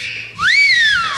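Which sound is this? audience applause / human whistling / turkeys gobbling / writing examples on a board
human whistling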